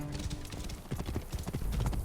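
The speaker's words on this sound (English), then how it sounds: "This must be Mered's horse" In Assassin's Creed Origins, a horse's hooves clip-clop in a quick, steady rhythm on hard ground, close and moderately loud over faint game ambience.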